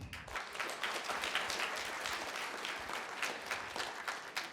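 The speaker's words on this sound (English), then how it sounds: "A round of applause for them." Audience applause at a middle school winter band concert, a dense, steady wash of many hands clapping that holds for several seconds in a large room.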